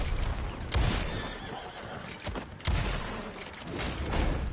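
A horse whinnies loudly in the Western game Red Dead Online, with sharp bursts of in-game gunfire and hoof clatter around the neighing.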